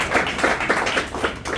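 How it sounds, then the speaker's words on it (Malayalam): An audience at a talk claps briefly, a loud, close burst of hand claps with a quick, uneven rhythm and no voices. "നല്ലൊരു കൈയടി വയ്ക്കും."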